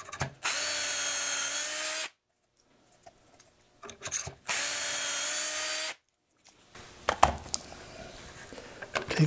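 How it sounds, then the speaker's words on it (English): Two loud bursts of a power drill whirring steadily for a couple of seconds each, drilling dowel holes through a Dowelmax doweling jig, separated by quiet handling and light scraping, close up. "We'll drill a couple dowel holes."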